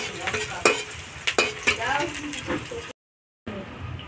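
Bay leaves, chillies and grains sizzling in hot oil as the base for a mango chutney, a steady fry crackle with scraping stir clinks. It cuts out briefly and then returns more faintly, with a voice speaking over it.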